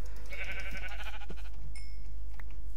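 A Minecraft sheep gives one wavering, nasal bleat over a constant low in-game hum, followed by a few faint clicks and tones from the game.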